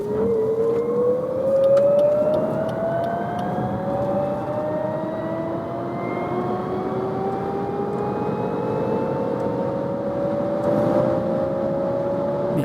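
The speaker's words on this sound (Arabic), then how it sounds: "سنبدأ بتجربة تسارع من الوضع الرياضي لمحاولة الوصول للسرعة القصوى لهذه السيارة" A Lexus UX 300e electric car accelerating hard in sport mode from 30 km/h toward its 172 km/h top speed, a steady electric motor whine climbing smoothly in pitch over wind and road noise.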